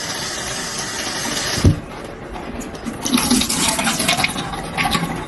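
Running tap water splashing as vegetables are washed in a kitchen sink, a sharp knock early on, then a steady rushing stream close by with no talk.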